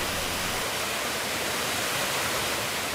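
A river flows along the bottom of a valley in Wales, giving a steady, even broadband rush of water that holds constant for the whole stretch with no voices.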